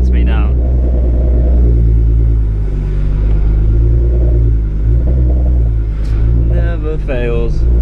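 A home-built 4WD vehicle's engine runs with a steady low rumble close by, and talk is heard over it.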